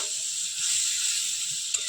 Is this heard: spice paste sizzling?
yes